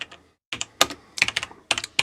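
A command is typed at a computer keyboard for a Python pip3 install, with short bursts of close, crisp key clicks broken by a brief pause.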